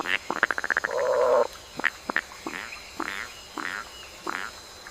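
A frog croaks in quick, rattling pulses, then a short run of throaty calls follows with gaps between them, close and fairly clear.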